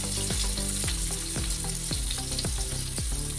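Two green chillies frying in leftover fish oil for an Assamese sour fish curry give a steady close sizzle, with sharp clicking pops and knocks recurring throughout; no one speaks.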